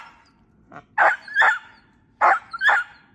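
A Patterdale terrier puppy barks at a raccoon during coon-hunting training: four sharp, loud barks arrive in two close pairs, with faint low rumbling between them.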